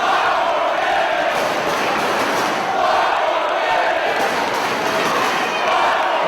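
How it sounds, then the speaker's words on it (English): A large wrestling crowd at a 2006 Ring of Honor event chanting "five more minutes", a loud continuous roar with rhythmic swells, dense and echoing throughout. "The 5 more minutes chant goes up."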